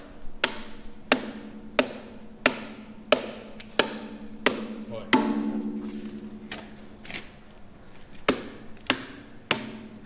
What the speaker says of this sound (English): We're now trusting Josh with the sledgehammer